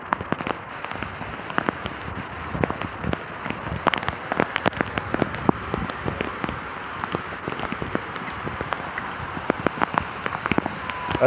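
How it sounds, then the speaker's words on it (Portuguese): Rain falling outdoors in the Vale do Vento area of Maranguape, Ceará, a dense steady patter of drops with sharp close ticks on surfaces, continuous at moderate loudness. "Aí galera, com chuva e tudo."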